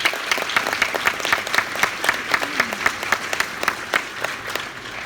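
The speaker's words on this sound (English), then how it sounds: "a big round of applause for Clemente." A live audience gives a big round of applause at an evening event, dense steady clapping close by that carries on throughout without a break.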